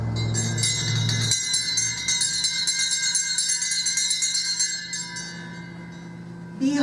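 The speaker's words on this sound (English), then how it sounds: "I'm gonna do the bell" A bell is struck once at an open mic poetry reading, a loud bright ring that sustains with shimmering overtones and slowly fades over several seconds, after a low hum in the opening moment.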